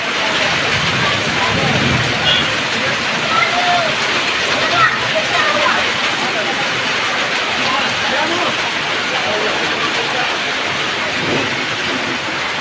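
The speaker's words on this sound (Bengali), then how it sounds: "আল্লাহ দ্বারা দোয়া করে এই 2 তারিখে বৃষ্টি আনছে আল্লাহর রহমত।" Heavy rain pours outdoors on a hot day in a street where people and rickshaws are about, a dense steady hiss of rainfall with faint voices mixed in under it.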